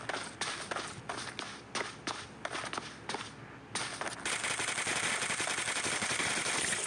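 Rapid gunfire in Battlegrounds Mobile during a team deathmatch room, a series of sharp close shots in quick bursts, then a dense steady roar of sustained fire and game noise to the end.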